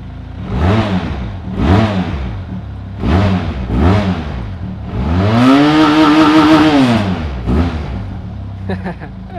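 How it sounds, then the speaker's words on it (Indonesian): A Benelli TRK 502 touring motorcycle's 500cc twin-cylinder engine is started, then blipped through several sharp rev bursts, ending in one long, loud sustained rise and fall, close and clear with no talk. "mesin 500 cc 2 silinder, tapi ada sensasi suara 4 silindernya nih."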